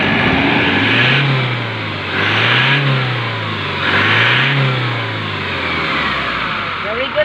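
A car engine that had not started for three weeks, running after an immobilizer key reset, revving up and down in three rhythmic swells close by, with voices talking in the background.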